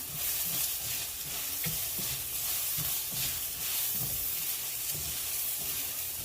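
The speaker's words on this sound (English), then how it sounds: "And I'm also gonna add the garlic. Just kind of mix it." Garlic and bell pepper sizzle loudly in a hot pan for Mexican rice, a dense, constant hiss broken by soft, rhythmic stirring scrapes, close and alone without speech.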